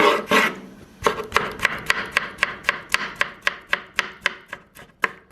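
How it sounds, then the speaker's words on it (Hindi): A knife chops tomatoes on a board in a steady run of about a dozen crisp, evenly spaced strokes, close and clear, with no talking. "तो चलिए नाज़रीन, टमाटर काट लेते हैं पहले।"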